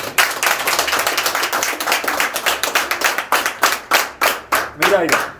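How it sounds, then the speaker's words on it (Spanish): An audience claps for the honourees of the film "Plantados" at a screening in Santiago de Cuba, close and loud, with distinct individual hand claps in an uneven rhythm that turn sparser and more separated toward the end. "lo que se merece es todos esos hombres, es esto. Un aplauso."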